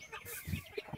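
Farm chickens clucking in a backyard poultry area after feeding, several short close clucks in a brief burst.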